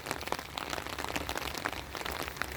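Gentle rain falls steadily outdoors in a village in November, a continuous soft patter of drops on surfaces with occasional brighter splashes, fairly close and alone without talk.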